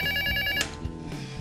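A telephone ringing in a comedy parody sketch, sounding a bright electronic ring with steady harmonic tones that cuts off after a little over half a second, followed by quieter room noise.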